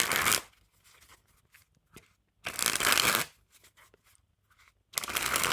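Ritual playing cards made by the United States Playing Company being sprung from hand to hand, loud whirring riffles in two long bursts with lighter card flicks between, very close and without talk.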